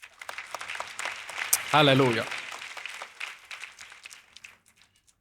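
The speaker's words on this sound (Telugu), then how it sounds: "అర్థమైతే ఒకసారి గట్టిగా దేవునికి చప్పట్లు కొట్టండి." Audience clapping at a church sermon: dense, steady applause across the first few seconds under a voice that calls out loudly, then thinning and fading away.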